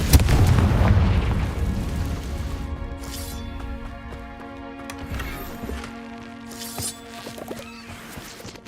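A Confringo blasting spell explodes in the Hogwarts Legacy video game, a loud booming burst at the start that rolls off into lower rumbles, with smaller blasts later over a sustained orchestral score.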